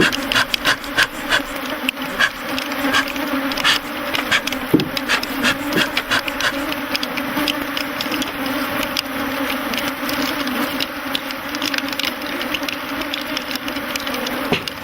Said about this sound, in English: there must be several million bees swarming around the men